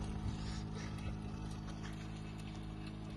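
A mechanized rice transplanting machine working a paddy field, giving off a steady low engine drone with a faint rhythmic chatter and no voices.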